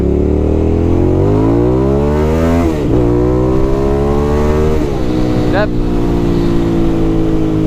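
A Hyosung 650cc motorcycle engine revs up steadily under hard acceleration in first gear, its pitch climbing twice then dropping at a gear change, loud and close throughout.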